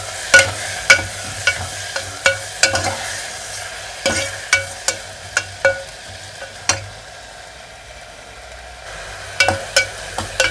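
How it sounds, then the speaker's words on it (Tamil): Tomatoes sauté in a pan for a tamarind curry with chickpeas and brinjal. Sharp, repeated spoon taps and scrapes come every half second or so over a soft sizzle, pause for a stretch, then resume near the end. "தக்காளி வதங்கட்டும்"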